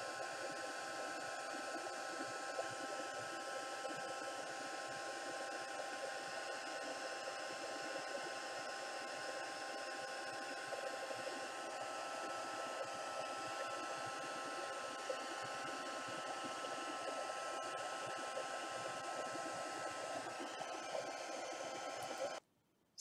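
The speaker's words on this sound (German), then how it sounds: "ich habe das jetzt schnell fertig geföhnt, damit ihr nicht so lange das Geräusch hören müsst" A hair dryer blows a steady, even whoosh with a constant whine while drying embossing on a handmade card. It runs unbroken for the full length and cuts off abruptly at the end, and no one speaks.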